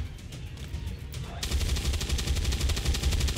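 Sustained automatic gunfire in the tactical game XCOM 2 Long War, a steady rapid stream of loud shots that starts abruptly and keeps going without talk.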